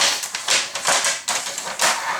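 Paper being cut for a Graphic 45 mini album, a series of close crisp swishing snips in a steady rhythm.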